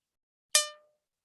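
One brass harmonica reed plucked once, a short, bright metallic twang that rings briefly and fades within a fraction of a second.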